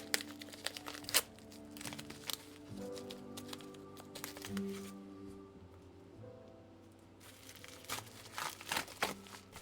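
A taped-up package being opened by hand, with close, quiet bursts of crinkling and tearing and scattered crunches, pausing briefly before the rustling resumes.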